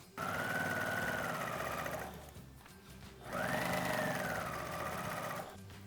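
Sewing machine stitching neon mesh fabric for a beach bag, running in two sustained bursts with a brief pause between, steady and close with no voices.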